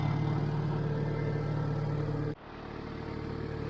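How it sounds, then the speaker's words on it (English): Farmall tractor engine running in third gear, a steady loud mid-pitched rumble with a constant drone that dips abruptly for a moment partway through, then builds back up, with no voices. "Third gear, my favorite gear on this Farmall."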